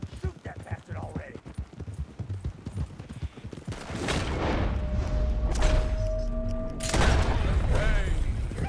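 A shootout with soldiers in Red Dead Redemption 2, starting with horse hooves clopping and voices, then a dense burst of loud gunfire volleys and booms that keeps going to the end.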